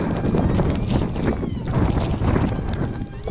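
Strong wind gusting during heavy snowfall outdoors in Dublin, Ireland, a constant loud roaring rush buffeting the microphone throughout, with no pause.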